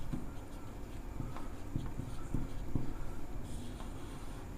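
Chalk tapping and scraping on a classroom blackboard during a physics lesson, a few short strokes and taps spread over a few seconds against a steady room hiss, with no talking.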